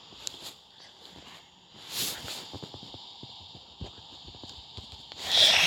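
Horse hooves in the Minecraft video game, soft sparse clopping steps close by at moderate level, with a brighter hiss near the end and no speech.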